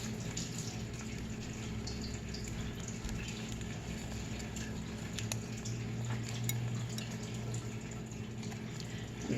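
Water runs steadily from a kitchen tap as a finger is rinsed during egg cooking, a continuous close hiss and splash with no talking.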